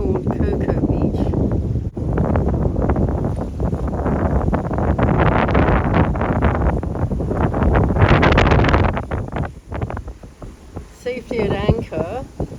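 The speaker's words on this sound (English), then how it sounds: "Safely at anchor, but in winds gusting up to 20 knots." Strong wind gusting up to 20 knots buffets the microphone on a boat at anchor in heavy, rumbling gusts that surge and ease throughout, loud and close, with faint creaks and rattles near the end.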